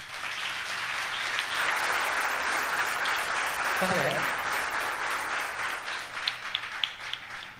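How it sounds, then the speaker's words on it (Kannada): Audience applause after a singer's performance of a devotional Rayara song at a singing competition, steady crowd clapping that swells and then thins toward a few scattered claps at the end, with a brief voice over it. "ಚಪ್ಪಾಳೆ ಚಪ್ಪಾಳೆ ಬೇಕು"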